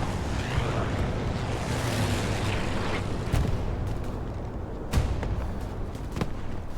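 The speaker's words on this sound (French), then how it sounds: "il y a l'arty qui tape vraiment sur moi" Artillery shelling in the online war game Hell Let Loose: several sharp, distant booms land a second or so apart over a constant roar of wind-like battlefield noise, with no talking.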